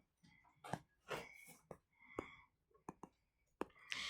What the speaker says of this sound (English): I am literally just typing in the square root of 228 into my calculator.